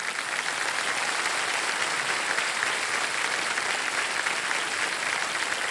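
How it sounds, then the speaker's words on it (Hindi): A studio audience on a televised quiz show breaks into sustained applause, a dense, even wash of clapping hands that holds steady at full strength throughout. "एक बार ताली बज जाए इनके लिए"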